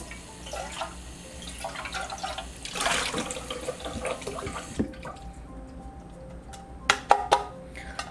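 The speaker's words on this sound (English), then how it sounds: "Let's give this pan a quick rinse." Water runs from a tap to rinse a pan in a sink. A steady splashing flow gives way to dripping and a few clattering knocks near the end, close by, with no talk.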